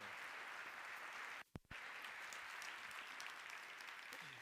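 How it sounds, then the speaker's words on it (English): A crowd applauds steadily with dense clapping throughout, briefly dipping for a moment before the applause continues. "let's give them another round of applause"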